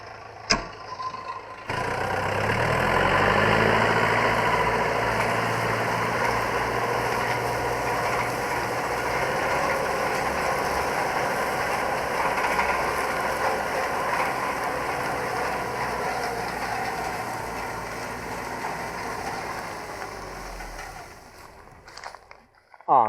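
A tractor drags a disc harrow across a field, its engine droning steadily and close with a faint mechanical rattle from the discs running under it for the whole stretch, and no talking over it.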